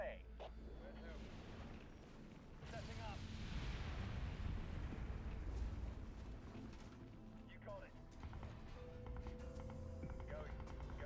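Bombs exploding in the Halo Wars strategy game, a faint low rumbling barrage that swells in the middle and then settles into continuous distant booming with scattered clicks, heard at low level.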